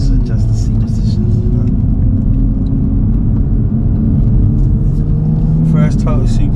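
Engine of a tuned Toyota Supra making 420 bhp at Stage 1, heard from the driving seat while on the move as a steady, loud low drone and rumble, with faint talk over it.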